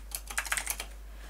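Typing on a computer keyboard, a short burst of about ten quick, light key clicks at close range that stops after under a second, with no talk.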